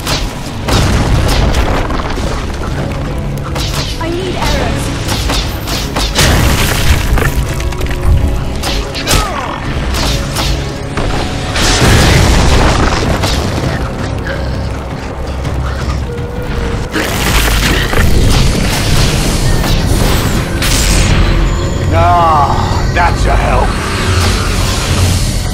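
Incoming fire pounds the battlefield in the fantasy action game Hunted: The Demon's Forge, dense booming explosions and heavy thuds rolling continuously and loud under shouted voices and game noise.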